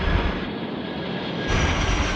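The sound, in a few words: Atlas Air jet on short final to runway 25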